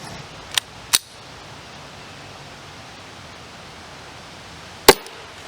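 A subsonic CCI Quiet-22 segmented hollow-point .22LR round fires three times as sharp, isolated cracks, two in quick succession near the start and a third after a pause of several seconds, over steady background hiss.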